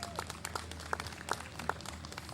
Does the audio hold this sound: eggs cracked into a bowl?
no